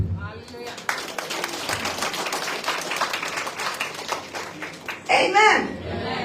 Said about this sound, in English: you are free to clap